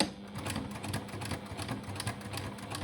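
A sewing machine stitching a pocket onto jersey trousers runs in a fast, even mechanical patter for a few seconds, close and moderately quiet, with no talking.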